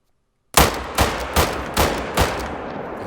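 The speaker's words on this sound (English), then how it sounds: "I'm going to fire a few shots and show you what the reload animation is like" Five rifle shots from a Quist Reaper 7.62 in theHunter Call of the Wild hunting game, fired at a steady pace after a moment of silence, each crack sharp and loud with a short decaying tail.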